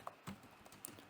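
Typing on a computer keyboard: a few quiet, irregular clicks of keystrokes close by, faint and without speech.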